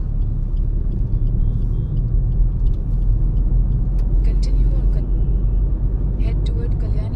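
A car cruising along the Kalyani Expressway, heard from inside as a steady low rumble of engine and road noise with faint higher clicks and hiss, and a voice talking over it.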